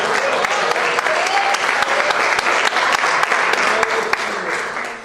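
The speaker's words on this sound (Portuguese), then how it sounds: "Uma salva de palmas para o Senhor." An evangelical church congregation gives loud, sustained applause to the Lord during a service with Pastor Ronaldo Santos, dense clapping with a few sharper individual claps and faint voices mixed in underneath.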